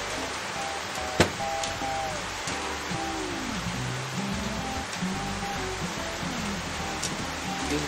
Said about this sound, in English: Never mind the background noise, it's just rain.